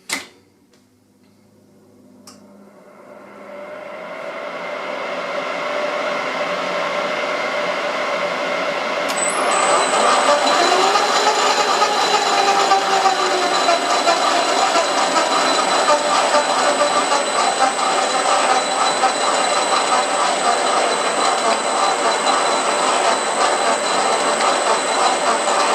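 Reamer cuts through an AR-15 barrel blank on a machine, starting quiet, then building into a steady grinding rumble with a higher ringing tone joining partway, as the tool chatters against the lands, continuous and close.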